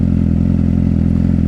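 A rebuilt Yamaha R6 motorcycle engine runs at a steady idle up close, with an even, rapid low pulsing and a faint mechanical clatter.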